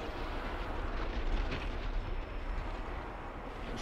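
Deep rumbling explosions and booming blasts from the video game Atomic Heart roll on continuously, a heavy low-frequency barrage with no voices over it.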